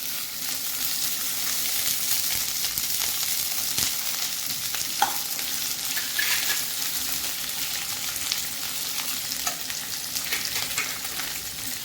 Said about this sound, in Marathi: कांदा पण आपल्याला लालसर भाजून घ्यायचा आहे.